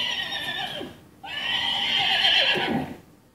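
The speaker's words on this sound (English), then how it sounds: "Here's what a horse sounds like." A horse neighs loudly with a shaky, descending whinny played by a smart speaker, then a brief pause before a second long, wavering neigh that trails off.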